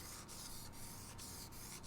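Close, steady wet sanding by hand, a continuous gritty hiss with a soft rhythmic rubbing stroke that pulses roughly twice a second, fairly faint overall and without talking.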